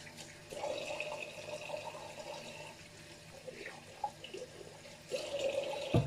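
Water runs from a tap during hand washing with soap, a steady close splash with brief interruptions and a louder surge near the end.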